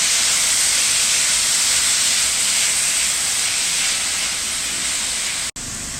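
Bottle gourd sautéing in a hot pan gives a loud, dense, unbroken hiss that barely changes for several seconds, then drops out for a moment near the end.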